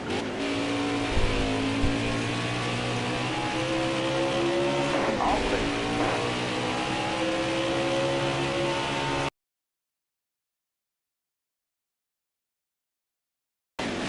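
NASCAR Xfinity Series race cars at speed on the Mid-Ohio Sports Car Course road course, loud engines roaring and shifting as cars pass close by, with rising and falling revs for about nine seconds before a sudden cut to silence.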